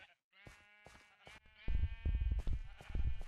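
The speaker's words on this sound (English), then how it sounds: "I got all my sheep in my pens all the way around." Sheep in pens in the Minecraft video game bleat repeatedly in overlapping calls, several animals at once, loud and close with no talk.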